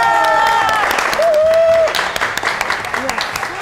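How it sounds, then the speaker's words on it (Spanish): Studio audience applauding a TV show guest, crowd clapping and cheering at the start, then fading as voices talk over it. "¿Qué hay tanta gente aplaudiendo?"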